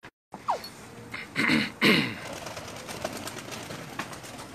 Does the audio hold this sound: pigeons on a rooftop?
yes